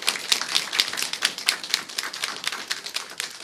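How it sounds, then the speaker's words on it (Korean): A small Sunday-worship congregation welcoming a newly registered church member with clapping: crisp, uneven hand claps from a modest group, close and moderately loud, with no talking. "우리 박수로 환영하도록 하겠습니다."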